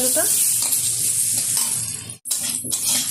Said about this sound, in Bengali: নেড়ে চেড়ে একটু ভাজা ভাজা করে নেবো